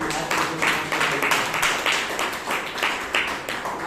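An audience at a Toastmasters meeting in Bangalore applauds with a steady wash of clapping that holds for several seconds.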